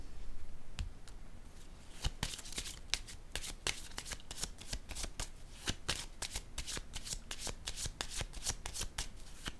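Tarot cards being shuffled and drawn by hand, a close, crisp series of rapid riffling snaps and slaps repeating irregularly over several seconds with no talk.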